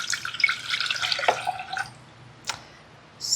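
Filtered water pours into a pan, a splashing, gurgling stream for nearly two seconds, then a short clink and splash, fairly close with no talk.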